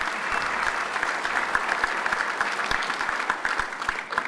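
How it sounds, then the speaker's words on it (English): Sustained audience applause at a North America's Building Trades Unions gathering for a governor's remarks, a thick wash of clapping with scattered sharper hand claps and thumps standing out, steady and fairly close. "Let's give him a round of applause for his great leadership."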